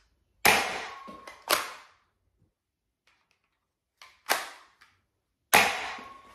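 Nerf Rival Pilot blaster firing its included Accu rounds: four sharp snapping shots spaced by pauses, each a crisp close pop with a short mechanical rattle after it.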